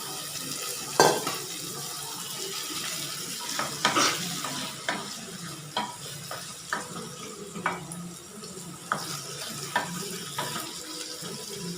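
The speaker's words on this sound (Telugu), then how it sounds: "మీడియం ఫ్లేమ్లో పెట్టుకొని బాగా వేయించుకోవాలి." Cut potato pieces fry in a pan over a medium flame, sizzling steadily while a spatula scrapes and taps against the pan every second or so, close and moderately loud.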